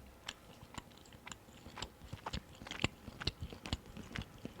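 Close, soft chewing of cooked, slightly dried liver seasoned with salt at a Korean snack mukbang, with irregular moist bites and crunchy clicks spread across the clip, no talking.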